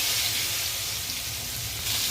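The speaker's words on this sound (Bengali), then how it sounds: "ওই তেলে কাঁচকলাগুলো ছেড়ে দিয়েছে, ওই তেলেই কাঁচকলাগুলো ভেজে নেব।" Raw green bananas frying in hot oil, a steady dense sizzle and crackle throughout, close and loud with no talk.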